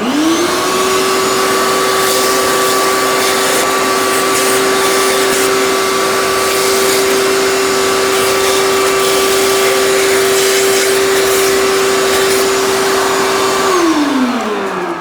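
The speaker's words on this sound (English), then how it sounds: "what I'm going to do with my vacuum is I'm just going to go around and vacuum this area" A vacuum cleaner sucks up loose rocks inside the engine bay of a McLaren MP4-12C, a loud steady whine that spins up at the start, carries faint rattles of debris throughout, and winds down at the end.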